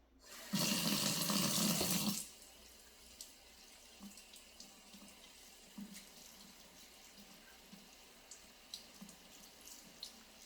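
Water gushes from a tap for about two seconds while hair is rinsed, loud and close, then cuts off, leaving faint scattered drips and small knocks.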